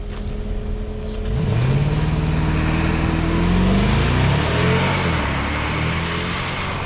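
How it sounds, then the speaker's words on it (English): A 2021 Mercedes-Maybach GLS600 accelerates, its engine pitch rising and then holding steady, with a broad rush of wind noise over it. "The amount of noise you get from just the rushing air"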